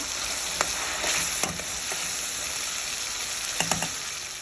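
Ground spice paste fries in a pan for rui fish curry, giving a constant close sizzle broken by a few sharp spoon clinks and stirring scrapes.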